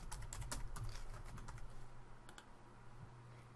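A computer keyboard tapped in quick, light bursts while a username and password are entered, faint and close with a low steady hum beneath.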